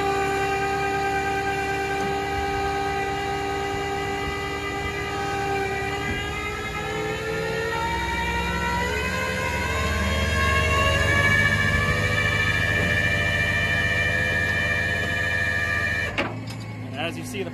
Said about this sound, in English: As you see, we are winching up.